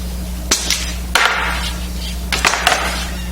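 A small shot-filled hammer taps wood in a woodworking shop, landing in two short clusters of sharp, close knocks separated by a pause, with a low steady hum underneath.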